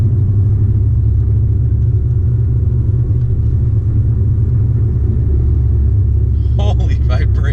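A big-turbo Ford Focus ST rumbles on the move, its engine giving a loud, constant low drone with strong vibration. Short bursts of voices come in near the end.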